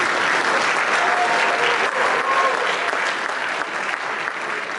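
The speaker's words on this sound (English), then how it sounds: "We can give her a round of applause as well." Audience at a high school choir winter concert gives a full, even round of applause, continuous and fairly loud, with a few voices faintly mixed in.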